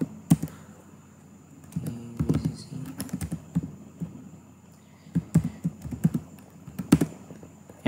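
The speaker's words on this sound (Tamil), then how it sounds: "டைப் பண்ணுறேன்" Quick bursts of computer keyboard keystrokes entering a short name, clustered taps with pauses between, close and fairly quiet against a faint room hum.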